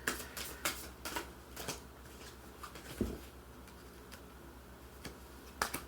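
Tarot cards being shuffled in a quiet room, a series of quick riffling bursts that come and go with soft tapping between them.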